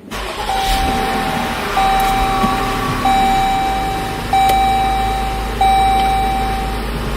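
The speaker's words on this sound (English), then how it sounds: "I'm just backing my car out of." A car's reversing alert beeps in a steady repeating pattern as it backs out of a home driveway, each tone loud and close over a low engine rumble.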